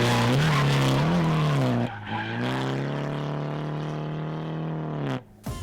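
A car drifting at full throttle with its tires spinning, the engine holding a loud, steady high note over a screeching tire squeal before the revs briefly dip and pick up again.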